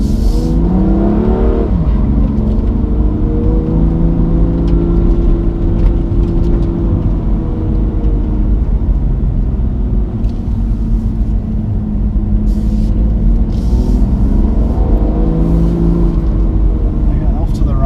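A car engine held in second gear on an unfamiliar country road, a steady loud drone and rumble that rises and falls in pitch as the revs change, continuous throughout.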